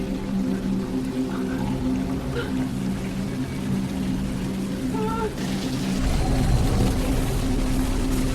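Water from a hose pours through the roof of a lift in a steady rushing stream, and a louder gush comes in toward the end. Faint voices and tones from a film play underneath.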